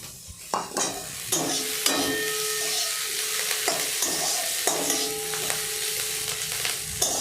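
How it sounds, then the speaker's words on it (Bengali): A potato and egg dish with chopped coriander is stirred in a frying pan, with steady sizzling and repeated scraping and clinking of a utensil against the pan at close range. "হালকা একটু নেড়ে নিয়ে মিনিট 2 নেড়ে নেওয়ার পর একে আমি নামিয়ে নিচ্ছি।"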